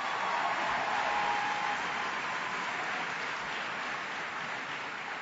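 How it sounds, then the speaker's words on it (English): A conference audience applauds in a dense, steady wash of clapping that lasts several seconds and fades slightly toward the end, with no voices over it. "Let's give Laura a round of applause."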